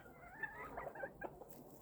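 A small bantam hen clucking softly, a short run of close, quiet chattering clucks with no talk over them.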